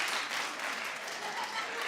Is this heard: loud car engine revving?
no